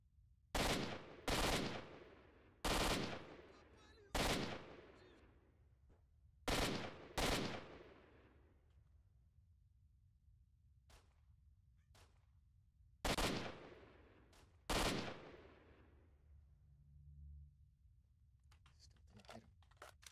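Assault rifle gunfire in the shooter game S.T.A.L.K.E.R. Shadow of Chernobyl, sharp loud single shots and short pairs spaced apart, with quiet gaps and faint clicks between.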